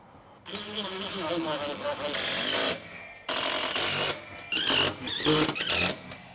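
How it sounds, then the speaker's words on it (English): A power driver sends holding screws into E-track rails inside a cargo trailer, with several loud whirring bursts of a second or so separated by short pauses, close and reverberant. "Let's do the holding screws first."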